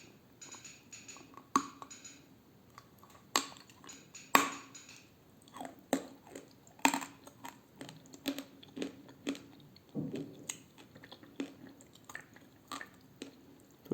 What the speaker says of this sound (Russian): Очень вкусный хруст будет сегодня